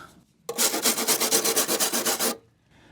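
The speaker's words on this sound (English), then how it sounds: "Shall we add a little rust converter? We might as well, hence the wire brush." Wire brush scrubbing the rusty sill and floor metal of a Nissan Micra K11, a run of quick, rhythmic rasping strokes close to the mic for about two seconds, loud and with no talk.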